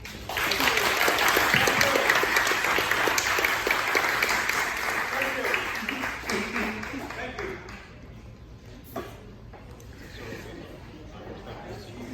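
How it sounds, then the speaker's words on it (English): Audience applauds panelists at a company culture event, strong clapping that fades after several seconds into scattered claps and murmured chatter. "let's give our panelists a round of applause"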